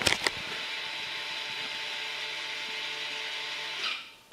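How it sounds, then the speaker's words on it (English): Electric parking brake motors on a Toyota Camry TRD whir steadily as they retract, a continuous mechanical drone lasting about four seconds between faint clicks at the start and end. "the parking brake motors back all the way out"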